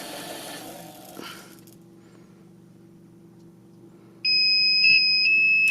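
Hornady Lock-N-Load and RCBS ChargeMaster 1500 powder charge dispensers sound together, starting as a low motor hum and then breaking into a loud, sustained electronic beep that holds steady, with a couple of brief pulses layered into the tone.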